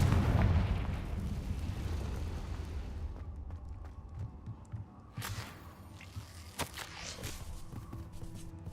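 Explosive Confringo spell blasts in the Hogwarts Legacy video game, a loud booming burst at the start with rumbling decay, followed by several sharper crackling impacts over a low ambient background.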